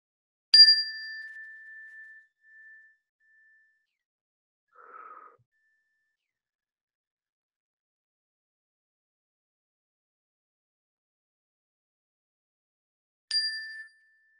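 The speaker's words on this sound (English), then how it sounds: "take a breath at the sound of the bell" A bell is struck once, its clear tone ringing and slowly fading; after a long quiet stretch it rings again near the end.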